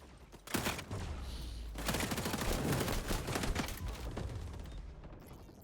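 Sustained automatic gunfire in the shooter game XDefiant, loud and close, with dense overlapping bursts running for several seconds before tapering off at the end.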